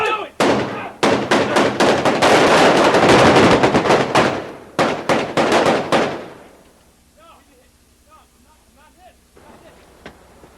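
Rapid bursts of gunfire in a reenacted New York police shooting, loud close shots fired in quick volleys for about six seconds, then a sudden drop to quiet with faint distant voices.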